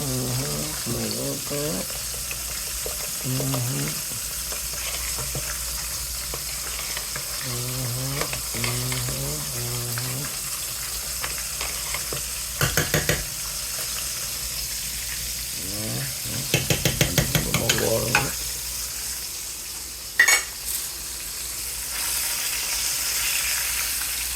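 Gravy for cubed steak is whisked in a sizzling frying pan, with bursts of scraping strokes over a steady hiss and occasional voices talking nearby.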